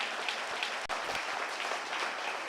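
Applause from an audience at a county 4-H dairy goat show, greeting an age division of the showmanship class; dense, steady clapping fills the short stretch with a brief dip partway through.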